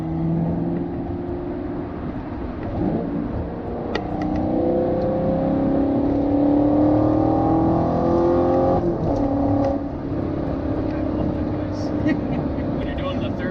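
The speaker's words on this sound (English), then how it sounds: "When you're doing the third or fourth gear change. Yeah, just a really quick throttle blip that gets in here." A 2018 Chevrolet Camaro SS 1LE engine climbs and drops in pitch through gear changes, with quick throttle blips, heard from inside the car while people talk over it.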